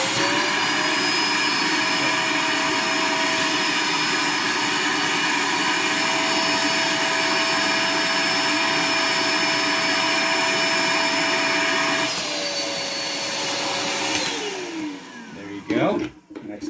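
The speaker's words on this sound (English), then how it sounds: "what we're gonna do is suck all the air out, and then I'm going to grab the iron and I'm gonna clamp it off" A vacuum sucks the air out of a bag with a loud, steady roaring whine, close up for about twelve seconds, then the pitch shifts and it cuts off with some handling noise at the end.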